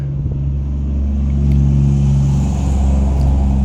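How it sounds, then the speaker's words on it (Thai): Road traffic right beside a roadside spot, cars passing close, a steady, loud low engine rumble that swells slightly midway, with no voices. "อาจจะเสียงดังหน่อยเนาะ เพราะว่าค่อย อยู่ใกล้หนทางเนาะติดหนทางทั้งหน้านี่ก็เป็นหนทางเลย"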